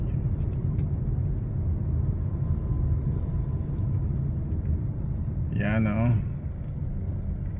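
Steady low traffic rumble of cars on a busy street in Sabang, Antipolo, with a passing vehicle swelling briefly near the end, under continuous nearby talk.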